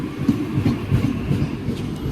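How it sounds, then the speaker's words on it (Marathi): A train rumbles into a station close by with a low, heavy roll and rhythmic wheel clatter. "आमची ट्रेन पण आली आता"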